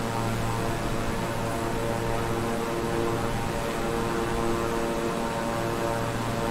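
Steady, loud drone of the twin turboprop engines on a Beechcraft King Air 350i held at mid throttle in Microsoft Flight Simulator, a constant even hum with no talk over it.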